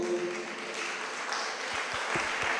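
Audience at a Jain monk's religious discourse claps together in a steady, dense patter that fills the hall; the applause stays even and moderately loud throughout, with a few sharper individual claps near the end.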